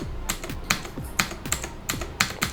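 Typing on a Daxa M71 PRO keyboard: a quick run of about ten crisp key clacks in an uneven rhythm, close and clear with no talking.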